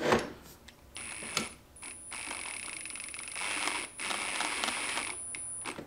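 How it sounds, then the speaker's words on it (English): Small impact wrench on its lowest setting, about 14 foot-pounds, disassembling Yamaha YZ85 inverted Kayaba forks: several bursts of rapid ratcheting hammering with short pauses between them, close and fairly loud. "Then using this little impact on a really low setting, like the lowest setting it has"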